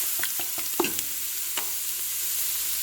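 Mirepoix and garlic sauté in a pot for braised short ribs, giving a steady close sizzle with a few sharp stirring clacks early on and then a smoother hiss.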